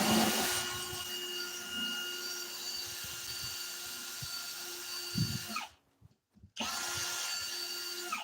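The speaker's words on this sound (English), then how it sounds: "I'll go ahead and drill this out a little bit" A power drill drilling into metal with a dull bit whines steadily at close range, briefly stopping near the end before starting up again.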